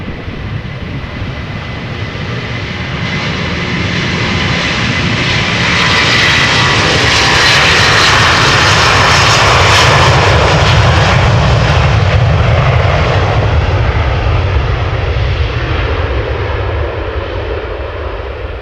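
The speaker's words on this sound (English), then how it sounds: "Delta Airlines A330 flight 161 off to Minneapolis." Delta Airlines Airbus A330 jet taking off at Amsterdam Schiphol, a loud sustained engine roar that swells toward the middle as it passes and then slowly fades, with no talking.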